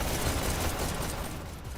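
Steady, dense gunfire from a VR shooter during an e-sports league playoff match, a continuous rattling fusillade that stays fairly loud throughout and thins slightly toward the end, with no voices.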